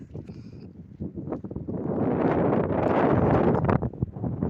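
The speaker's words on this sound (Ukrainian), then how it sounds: "На сьогодні вітер." Wind buffeting the microphone in rough, rumbling gusts that build and stay strong through most of the stretch.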